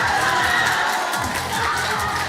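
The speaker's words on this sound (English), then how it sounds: "His teammates are cheering for him," A dense crowd of teammates cheers and shouts at a bouldering competition, the Nordic Boulder Championships in Lerum. The roar is steady and continuous for the whole stretch, with overlapping voices blending into one wall of sound.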